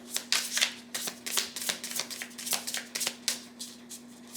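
Tarot cards being shuffled by hand in a quiet room, a steady run of crisp riffling and flicking bursts close to the microphone over a faint steady hum, with no talking.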